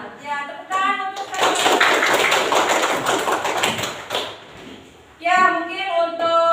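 A school class breaks into applause, a dense burst of many hands clapping for about four seconds, with a teacher speaking before and after it.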